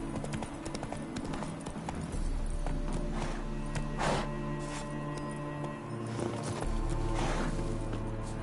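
Horse hooves clip-clop at a steady walking pace in The Witcher 3, each step crisp and close, over a continuous low game ambience without talk.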